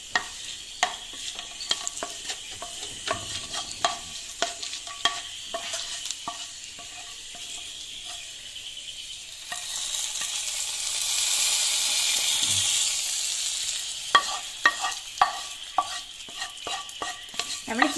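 A spoon scrapes and clacks in a pan while ingredients for mango pulissery fry. Soft sizzling runs underneath and swells into a louder hissing burst midway before the rhythmic stirring taps return.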